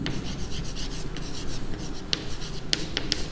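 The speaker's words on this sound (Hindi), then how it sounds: "तो मैं लिखता हूँ" Pen writing on paper during a maths lesson, continuous close scratching with short sharp tapping strokes toward the end, no talking.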